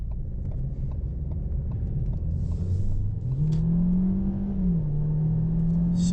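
A 2014 Ford Escape SE in sport mode accelerates from inside the cabin, its engine droning and rising in pitch, dipping briefly at a shift, then climbing again under steady road rumble.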